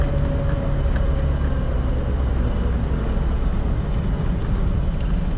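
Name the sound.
Land Rover Defender 90 50th anniversary V8 being driven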